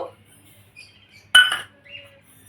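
A spoon clinks against a steel mixer jar as poppy seeds are added for a spice paste, one sharp metallic tap with a short ringing tail amid quiet kitchen background.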